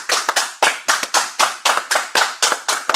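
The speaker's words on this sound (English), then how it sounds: "And clap it up one more time." Clapping at a Friday Ancient Hebrew class in San Antonio, loud, close, rhythmic hand claps in a steady beat of roughly four per second, with no talk over them.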